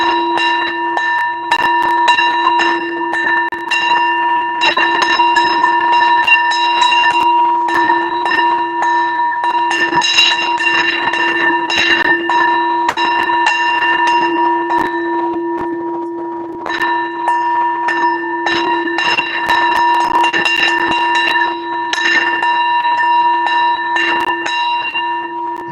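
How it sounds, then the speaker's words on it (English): A bell rings repeatedly and loudly with sustained, overlapping tones and steady strikes throughout, no voices over it. "Let me ring this bell."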